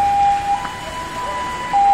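A fire truck siren wails as it arrives at a big fire in Baguio City, a loud, steady high tone that cuts out briefly and then returns, close by over background street noise.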